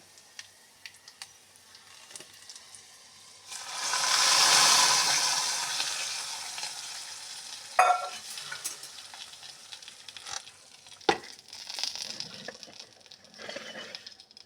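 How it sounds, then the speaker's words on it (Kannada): Hot oggarane tempering hits a spicy karagali dish with a loud, rising sizzle that fades slowly, followed by scattered stirring scrapes and clinks nearby. "ಈಗ ಒಗ್ಗರಣೆಯನ್ನು ಅದಕ್ಕೆ ಹಾಕೋಣ."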